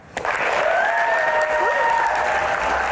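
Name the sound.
audience applause for guest at a music Q&A show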